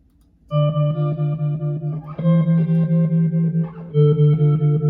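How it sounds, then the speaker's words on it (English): Guitar chords played through a rhythmic pulsing effect in Logic Pro X, each note chopped into quick steady throbs, with a few chord changes and no talking. "this is just gonna give it like a pulse effect"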